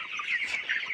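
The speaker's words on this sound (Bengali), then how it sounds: "মুরগিগুলো খেলা করতেছে" Poultry hens on a Bangladeshi farm of about 1200 birds cluck and chatter continuously at close range, a busy overlapping flock sound with no talk.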